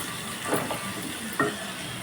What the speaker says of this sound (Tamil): வெங்காயம் நல்லா கலர் மாறி வதங்கி வரணும்.